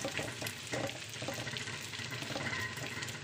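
An egg sizzles and fries in a pan over leftover rice and viands, a steady crackling hiss with occasional stirring scrapes, close and fairly quiet, no voices.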